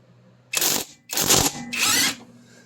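A small impact gun hammers at the rear wheel hub nut of a Triumph Spitfire in three loud, close bursts of rattling rotation separated by short pauses.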